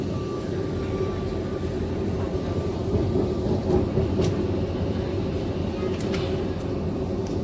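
A Vande Bharat Express train on the Howrah to Kamakhya route rumbles over a bridge, a loud continuous low roar with rattling that swells slightly midway, heard from on board.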